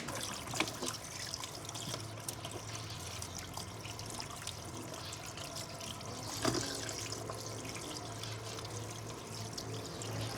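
Water pours steadily from an iSpring filtered kitchen tap, a continuous close splashing trickle into a sink that runs without a break, with no voices over it.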